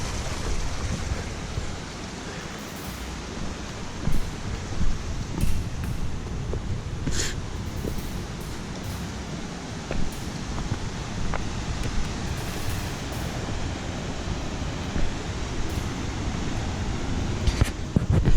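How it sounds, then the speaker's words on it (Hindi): A loud, steady roar of a heavy Himalayan mountain river rushing near Dodang campsite on the Ronti Saddle trek, continuous and broadband, with no voices. "जैसे ही मैं नदी के पास जाऊँगा बहुत तेज़ आवाज़ आ जाएगी"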